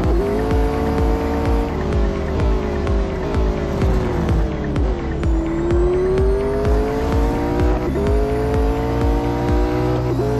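A McLaren 765LT in Real Racing 3 holds a loud, continuous engine drone that climbs and drops with gear shifts, while tyre noise runs underneath throughout.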